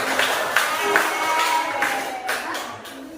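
Primary-school children in a fifth-grade class clap for their classmates, a handful of fairly regular bursts of hand claps at a moderate distance in a classroom.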